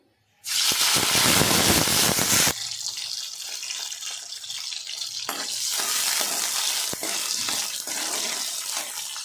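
Green chillies hit hot oil with a loud burst of sizzling that stays dense and steady, then eases into a continuous softer frying crackle with occasional stirring clatter.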